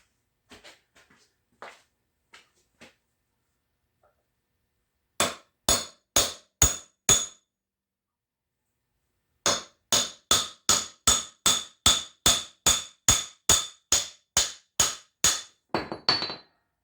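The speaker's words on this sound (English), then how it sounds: "Let's try this angle and see if we can tap the pin down." A hammer taps a pin down on a Case D tractor front axle in quick repeated metal strikes: a few faint ticks, a burst of five blows, then a long steady run of about a dozen more.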